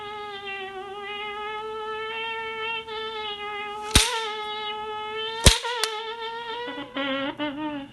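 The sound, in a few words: slapstick sound effect, two hinged boards slapping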